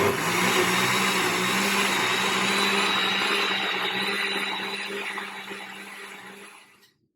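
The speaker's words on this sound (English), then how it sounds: "Now we're gonna blend it with stir." A blender set to puree runs steadily at high speed, whirring loud and close through Carolina pepper salsa before winding down and stopping at the end.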